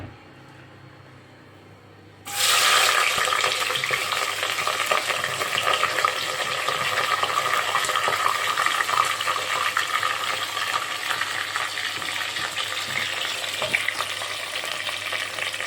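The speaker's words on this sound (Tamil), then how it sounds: "வெங்காயத்தை நன்கு வதக்கவும்." Three large onions hit a hot pan with a sudden loud sizzle, then keep frying steadily while being stirred, a dense crackling hiss that continues to the end with no voices.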